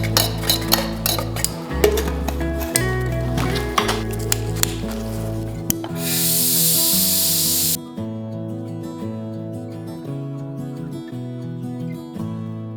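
Anti-corrosion coating sprays onto the front chassis rails and rocker panels of a 29-year-old BMW's underside in one sustained hissing burst of about two seconds. Background music plays before, during and after it.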